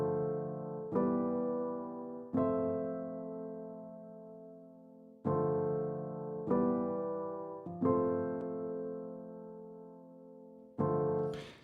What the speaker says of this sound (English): So I'm just going to play this piano loop, just a little piano part that I wrote.